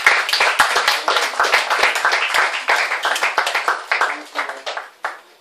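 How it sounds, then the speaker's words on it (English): A small audience gives a warm round of applause to greet a speaker, sharp individual claps close by that thin out and fade to a few scattered hands near the end. "please let's walk, give him a greeting with a warm round of applause"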